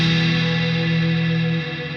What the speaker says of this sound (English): Let's see what the plate reverb sounds like.